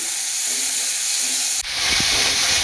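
Chopped tomatoes drop into onions frying in hot oil. A soft hiss jumps to a louder, sharper sizzle partway through, and no one speaks.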